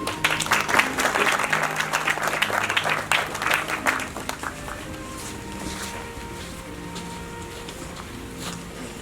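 Audience applause at a Baha'i star garden opening at the Great Stupa in Bendigo, as a speaker named Ian is welcomed to the microphone. Loud, dense clapping fills the space, then thins and fades to quieter room sound.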